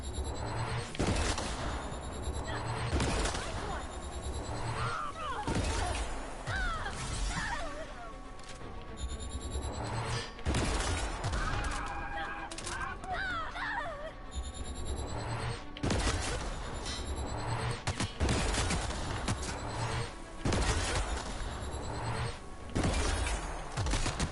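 Repeated loud gunshots and impacts in the video game The Outer Worlds, sharp bursts every few seconds over steady game noise, with someone talking at times.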